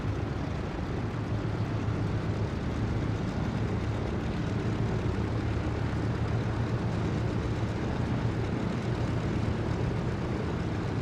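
A Douglas DC-3 holds an engine run-up on the runway before takeoff in Microsoft Flight Simulator, a loud, steady radial propeller drone with a low hum, sustained throughout without talk.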